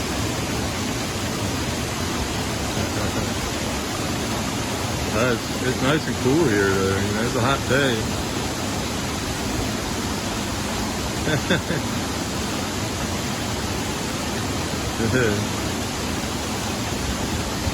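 The river at Kasabangan Falls on Biliran Island in the Philippines rushes steadily, a dense, unbroken wash of flowing water close by. People talk intermittently over it.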